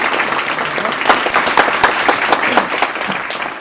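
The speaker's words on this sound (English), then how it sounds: "So big applause for Ray." Audience applause at a school board of education meeting, a steady wash of clapping hands with no break, filling the whole stretch without voices on top.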